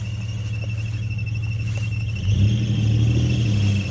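Off-road vehicle engine revving as it tries to climb out of a hole at a proving grounds course, a steady loud rumble that strains and rises in pitch midway, with no talk.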